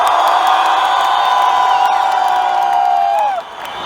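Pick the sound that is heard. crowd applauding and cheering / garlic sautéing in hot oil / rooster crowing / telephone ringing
crowd applauding and cheering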